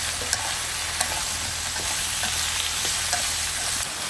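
Onions stir-fry in a hot pan at an outdoor home kitchen, a continuous loud sizzle broken by a few sharp scrapes and clicks of the utensil.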